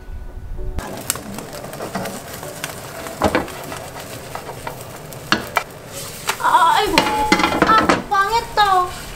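Egg sizzles in a hot pan with occasional spatula taps, then brief chirpy, excited voices and movement toward the end.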